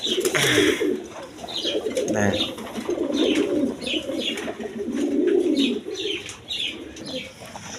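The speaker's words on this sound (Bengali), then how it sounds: "এখানে এক পেয়ার চুয়াচন্দন কবুতর আছে" A pair of chuachandan pigeons coos in low, rolling phrases close by, repeating through the stretch, while someone talks briefly and other birds chirp faintly in the background.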